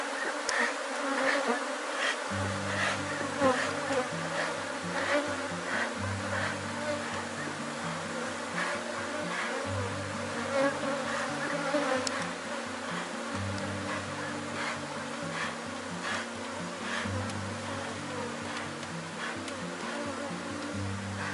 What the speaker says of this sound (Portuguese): quando você abre ele, ó, voa a abelha para todo lado